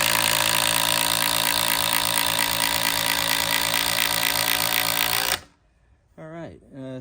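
An impact driver sets a fastener with a loud, steady, buzzing hammer rattle lasting about five seconds, then stops abruptly, followed by a brief spoken remark.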